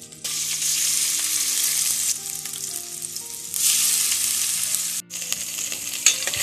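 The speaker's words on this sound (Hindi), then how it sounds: "अब हम इन सभी मसालों को धीमी आंच पर भून लेंगे" Ginger garlic paste and chili paste fry in a tablespoon of oil in a wok over low heat. A steady, loud sizzle carries on with occasional stirring scrapes and no voices.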